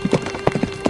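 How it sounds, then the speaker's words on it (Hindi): Horse hooves clip-clop in a quick, uneven rhythm as two bandits ride in on horseback, loud and close for about a second with no talking over it. "तभी दो डाकू घोड़े पर बैठकर आते हैं"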